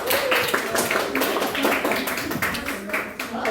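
A small group in a classroom claps for a presenting team, giving a short, uneven patter of hands with a voice speaking over it.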